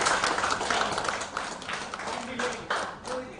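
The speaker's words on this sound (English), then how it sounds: "And once loud applause with hands." Audience at an international conference applauding, a dense wash of many hands clapping steadily for a few seconds, fairly loud and close, with faint voices mixed into the crowd noise.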